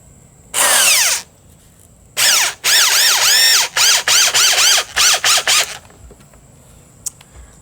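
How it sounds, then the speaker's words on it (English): A power drill drives two screws into a wooden archery target stand: one short whine, then a longer run with the motor revving up and down, ending in a series of quick choppy bursts as the screw seats, close and loud. "I'm going to put 2 screws in here."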